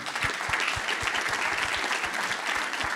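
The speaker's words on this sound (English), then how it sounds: "A round of applause for Chef Gary Johnson" A forum audience applauds the chefs at a food service event, with a steady wash of many hands clapping and individual claps popping out clearly. The sound is moderately distant and continuous, with no voices on top.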